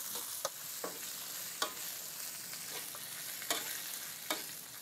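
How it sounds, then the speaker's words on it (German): Garlic and shallots fry in oil in a pan while a spoon stirs them, giving a steady sizzle broken by several sharp scraping strokes against the pan, close and alone. "Ich gebe einen Schöpfer Öl in die Pfanne. Dazu gehackter Knoblauch und Schalottenwürfel. Dann rühre ich gut um."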